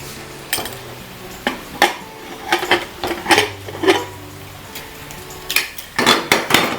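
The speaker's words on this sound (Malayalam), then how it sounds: "നമ്മുടെ ഇറച്ചി എന്തായാലും നമുക്കൊന്ന് കുക്കർ തുറന്ന് നോക്കാം." A pressure cooker holding cooked beef for a Kerala pepper roast is opened and handled, giving a close series of irregular metallic clanks and knocks of the steel lid and pot, with no talk.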